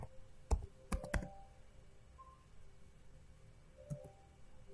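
Several quick keystrokes on a computer keyboard as a network command is typed, a short burst of clicks followed by a pause and one more keypress, close and fairly quiet.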